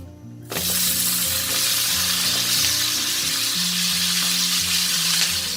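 Vegetables hit a hot pan with oil over high heat, setting off a loud, continuous sizzle that starts abruptly after a brief quiet moment and stays strong throughout.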